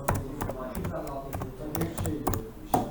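Keys on a computer keyboard clatter in quick, uneven bursts with a few louder taps, close by, while data is entered into Azpos retail software.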